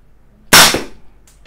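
A Beretta M92FS CO2 air pistol fired once at a can, a single sharp, loud, close crack with a quick decay and a faint metallic ping just after.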